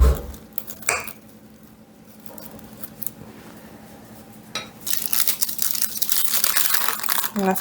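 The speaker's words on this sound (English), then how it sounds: "And just tear the paper away." Paper torn and pulled away from beneath a freshly cut homemade pizza, a crisp rasping rip building and continuing loudly near the end after quieter handling noises.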